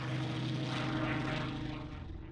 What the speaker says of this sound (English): its remarkable aircraft, the Spitfire with its Rolls-Royce engine